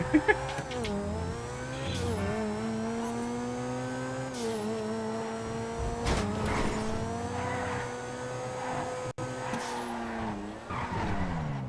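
A car in GTA Online, a video game, drives with a sustained engine drone that shifts pitch as it revs, mixed with tire skids and occasional impacts.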